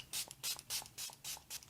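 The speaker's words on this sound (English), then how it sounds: "So just going to spray my face with the MILANI Make It Last spray." A Milani Make It Last setting spray is misted onto a face in five short, even bursts of soft hissing, each spaced by a brief pause, close and fairly quiet with no talking.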